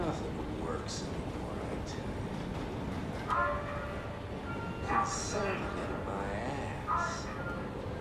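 A subway train ride in the video game Soma: a steady, dense rolling rumble runs throughout, with brief higher squeals and rattles rising above it while voices talk over the top.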